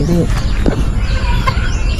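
A chicken clucks in short bursts close by, with people talking over it.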